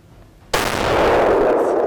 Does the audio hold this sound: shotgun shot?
yes